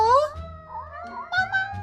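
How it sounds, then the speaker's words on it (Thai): A cat meows a few times in the horror video game Order 13, short rising and falling mews with someone talking over them. "ไหนคือแมวเหรอ นี่อ๋อ นี่ไงนี่ไง สวัสดีเจ้าแมว"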